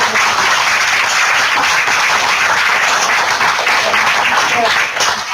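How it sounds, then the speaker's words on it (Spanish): Steady, dense applause from a conference audience at an international climate and health meeting, sustained at even loudness for several seconds. "Les agradeceré si damos un fuerte aplauso."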